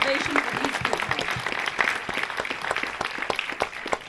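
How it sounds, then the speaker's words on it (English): An audience claps for water protectors standing up at a film festival Q&A, a standing ovation of scattered, distinct hand claps building into a moderate round. "Standing ovation for these people."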